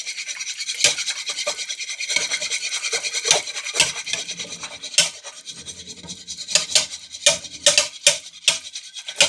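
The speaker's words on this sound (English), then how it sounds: "Whisk in your egg." An egg is whisked in a bowl that is too large for it, and the whisk makes quick scraping, rattling strokes against the sides. The strokes come in irregular bursts, close and fairly loud, with no talking.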